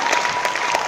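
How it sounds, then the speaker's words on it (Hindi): An audience at a stage presentation claps steadily, a dense and even wash of many hands at close range with no break. "थोड़ी सी ताली बजा लो"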